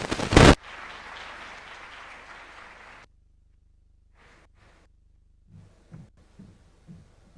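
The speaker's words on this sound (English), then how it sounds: "Another big round of applause for His Excellency." Applause from a conference audience at the Africa Forward Summit follows a sharp loud thump, a soft, steady wash of distant clapping that stops abruptly, leaving near silence broken by a few faint taps and murmurs.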